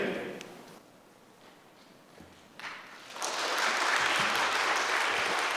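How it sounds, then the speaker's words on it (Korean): A church congregation bursts into applause after a quiet pause, the clapping swelling to a dense, sustained roar of many hands filling the sanctuary. "우리 큰 박수로 하나님께 영광 돌리겠습니다."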